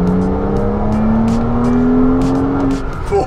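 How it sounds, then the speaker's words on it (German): Sports car engine with a factory flap sport exhaust revving hard, a loud, close, rising drone that climbs steadily in pitch for about three seconds, then eases off, with no talk over it. "du musst ihm einfach Drehzahl geben"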